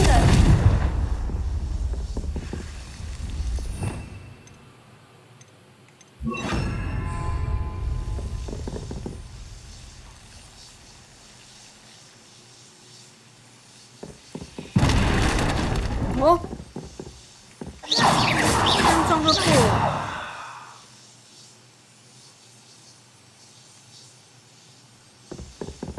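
Confringo fire spells exploding in Hogwarts Legacy on the Nintendo Switch: loud, roaring blasts in separate bursts, with a longer double burst near the end and quieter game ambience between them.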